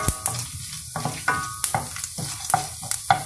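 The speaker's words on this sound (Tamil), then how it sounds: "கடுகு பொரிஞ்ச உடனே கடலைப்பருப்பு, ப்ரௌன் ஆகட்டும்." Chana dal fries in oil with popped mustard seeds, with a bright sizzle broken by repeated sharp metallic stirring clicks and scrapes, close and fairly loud, and no talking.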